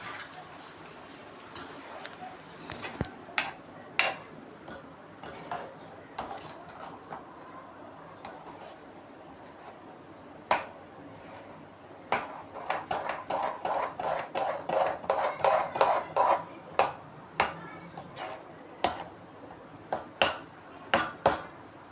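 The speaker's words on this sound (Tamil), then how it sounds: "கரண்டி வச்சு நல்லா ஈவனாக மிக்ஸ் பண்ணி விட்டுக்கோங்க." A spoon stirs cardamom powder and sugar into rava kesari in a pan, making irregular sharp taps and clicks against the metal that come faintly at first, then quicken into a dense run of knocks before thinning out.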